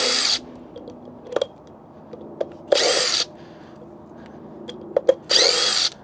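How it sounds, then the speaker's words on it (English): A DeWalt power driver runs bolts into an e-bike in three loud, close bursts of whirring, separated by quiet gaps with small clicks and handling taps. "I pull out my DeWalt driver and make this easy peasy"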